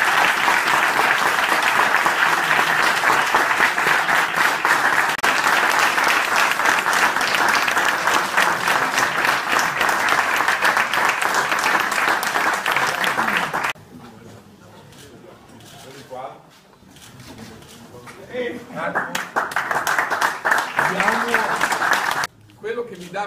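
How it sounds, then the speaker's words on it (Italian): Audience at an award ceremony in Imola applauds loudly and steadily for about fourteen seconds, then the clapping drops off abruptly, leaving quieter room noise with scattered voices and a brief return of applause near the end. "io farei un grande applauso"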